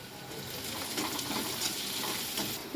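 Onions frying until golden brown, a dense continuous sizzle with gentle stirring rustles, close and steady.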